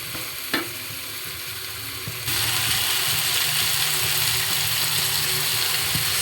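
String beans for pinakbet sizzle steadily in a hot pan, with a stirring scrape near the start before the frying hiss grows louder and holds, close up.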